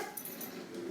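A dog whimpers and yips softly in short, faint bursts against quiet indoor background noise, with no voices.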